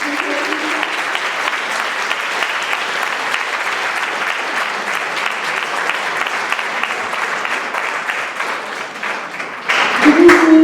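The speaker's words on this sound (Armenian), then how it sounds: "Ծափահարել" Sustained, loud applause from an audience at an international competition-festival for junior and young pianists, steady for the whole stretch and swelling slightly near the end, while a voice speaks over it.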